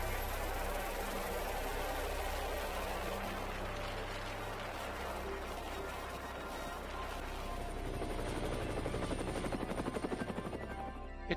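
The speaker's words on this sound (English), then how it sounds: "with the departure of the other helicopter from the landing pad, we were able to make our landing back aboard" A helicopter lifts off from a ship's landing pad in Antarctica's Ross Sea, its rotor and engine roar steady and close throughout, with a rhythmic blade chop growing more pronounced toward the end.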